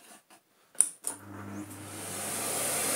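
A Philips Blue Magic Silence TC739 vacuum cleaner switches on after a few clicks and spins up into a steady, close whoosh of airflow with a low motor hum that builds in loudness.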